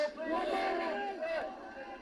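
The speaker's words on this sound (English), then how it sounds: "A huge cheer inside the entrance there of number 10." A crowd cheers and shouts inside the entrance of 10 Downing Street, a loud, sustained burst of voices close by that swells and then slightly eases.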